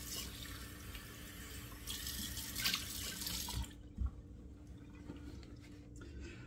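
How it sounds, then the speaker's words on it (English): Water gushes steadily from a tap into a sink, a constant rushing flow that cuts off partway, leaving faint drips and handling sounds. "let me just turn the cold water tap on"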